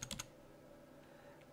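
Computer keyboard arrow keys pressed in three quick, soft clicks at the start, then faint quiet background with a couple of light taps.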